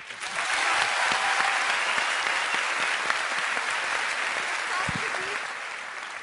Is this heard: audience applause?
yes